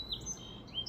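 A song sparrow sings outdoors on an afternoon, a few thin, high chirps and short whistled notes, faint and distant over a soft background hush.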